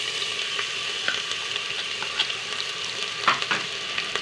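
Ginger and garlic sautéing in a pan with cloves, cardamom and fennel for a country chicken gravy: an even, continuous sizzle with a few light stirring scrapes, close and moderately loud, no voices.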